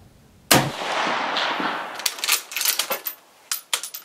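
A Mosin Nagant bolt-action rifle fires a single loud, sharp shot at 100 yards. A long rumbling echo trails off, then a series of crisp metallic clicks and clacks follow as the bolt is worked.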